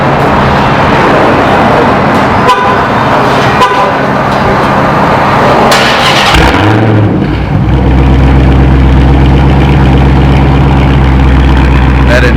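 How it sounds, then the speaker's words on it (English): A Dodge Hellcat with its mufflers removed fires up loudly after a stretch of broadband noise, its engine catching with a sudden blast and then settling into a deep, steady idle rumble close by. "Get ready to do the first cold startup, or rather, it's not a cold startup, but the first startup after doing the muffler delete."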